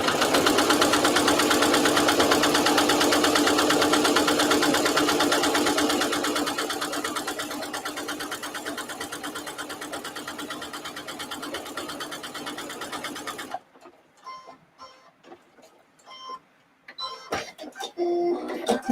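Sewing machine stitching a placemat, a loud rapid mechanical whir running steadily before slowing and stopping, followed by quiet handling noises and light clicks.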